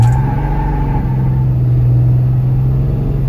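Pickup truck with a newly installed FASS lift pump, Beans sump and Fleece delete kit, cruising with a steady low engine drone and road rumble from inside the cab, constant and loud, no speech.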